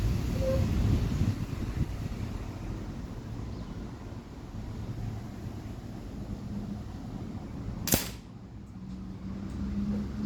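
A budget air pistol fires a single pellet through open sights outdoors, one sharp crack standing out against steady wind and ambient noise.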